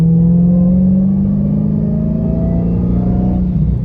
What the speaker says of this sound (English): just listen to the supercharger